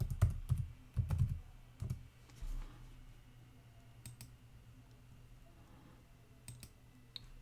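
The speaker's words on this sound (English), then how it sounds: "enter the password" A password being typed on a computer keyboard: a few quick, fairly loud clusters of key clicks at first, then sparser, fainter taps against a quiet room.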